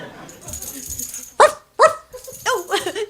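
A dog barks close and loud in an audio drama, giving three or four sharp barks in quick bursts over quieter background sound.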